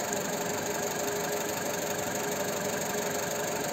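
A car engine idles steadily after a repair for rough idle vibration, a constant close mechanical hum with faint knocking texture and no voices.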